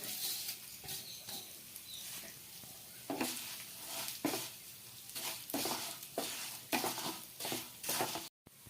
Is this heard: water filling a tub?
no